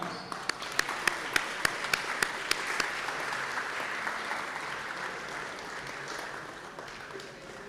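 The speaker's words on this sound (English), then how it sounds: "Please welcome with your applause." Audience applause at the opening ceremony of an AI conference, welcoming a delegation from Iceland onto the stage: steady, dense clapping from a large hall, with a few sharp close claps early on, fading slightly toward the end.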